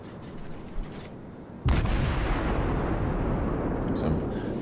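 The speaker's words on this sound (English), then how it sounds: "Shots out. Looks like a nice volley." In the World of Warships video game, the Japanese cruiser Myoko fires a main gun volley, a sudden heavy boom that rolls into a long loud rumbling decay, with a voice talking beforehand.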